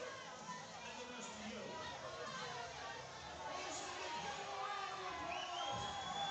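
A crowd at a high school powerlifting nationals cheers and whoops for a lifter going for a world record, a continuous mass of voices with shouts rising above the din, while an announcer talks over it.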